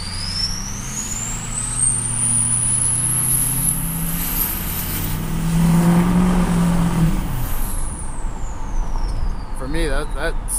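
A Ford F350 with a 6.0 Powerstroke diesel and a 2003 turbo, its high turbo whistle rising and then falling over a rumbling idle as the engine revs, loud and close, with someone talking.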